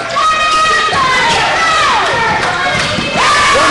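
Basketball crowd in a high school gym, a loud wall of cheering and shouting with rising and falling whoops, with no clear speech over the roar.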